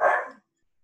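A single short, loud dog bark sounds close by, then silence.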